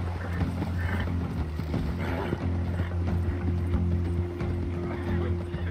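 Horse hooves in Red Dead Redemption 2 clip-clop steadily for several seconds alongside a whinny, with a low engine-like hum underneath, heard close and clear.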